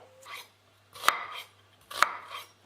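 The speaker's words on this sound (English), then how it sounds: "So we're going to put some red onion in the mixer" Red onion chopped in a mixer, heard as three short whirring bursts with quiet gaps between them, close and fairly loud.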